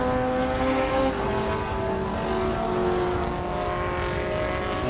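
Historic Formula 2 Lola T360 race car with a 1600 engine passing during qualifying at a circuit, a steady, fairly distant engine drone holding a sustained pitch throughout, with no voices.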